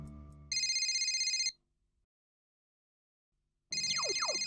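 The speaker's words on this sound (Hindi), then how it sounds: "किसका फोन है?" An electronic telephone ringtone rings in two bright bursts separated by a silent gap, following a short stretch of other sound, in a domestic setting from a Hindi sitcom.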